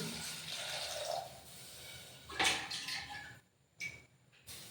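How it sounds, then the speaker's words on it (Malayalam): Water poured from a glass into a cooking pot for ghee rice, a short faint splashing pour that fades, followed by a couple of brief trickles and drips. "ഇനി രണ്ട് ഗ്ലാസ് വെള്ളം ഒഴിക്കുക"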